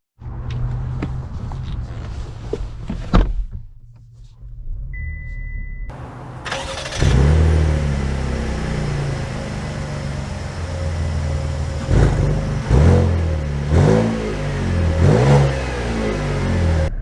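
A Buick Enclave SUV engine cranks and starts with a loud rev, then settles and pulls away with repeated revving as it accelerates. The engine is close and steady, with a quieter pause before it catches.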